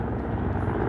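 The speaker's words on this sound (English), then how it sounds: "Helicopter departs at low level to avoid any detection by the enemy." A military helicopter departing at low level during an Indian Air Force firepower exercise gives a steady, loud, close rotor and engine roar that holds unchanged throughout.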